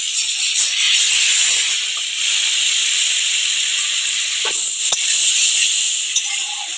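Marinated chicken sizzling in butter in a pan, a steady loud hiss of frying running throughout, with a few faint clinks and scrapes near the middle.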